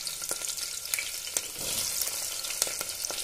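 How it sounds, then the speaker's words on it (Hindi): Green chillies and onions crackle and sizzle steadily in hot oil in a home kitchen pan, with small pops and faint stirring scrapes, close and continuous, no voices. "हरी मिर्ची और प्याज दोनों को जो है गोल्डन ब्राउन होने तक थोड़ा फ्राई कर लेंगे हम।"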